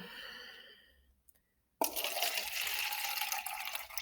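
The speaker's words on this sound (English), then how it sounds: "And you're going to add some water." Water is poured into a cup holding an avocado seed, a sudden loud splashing rush of liquid after a quiet gap, continuing to the end without talk.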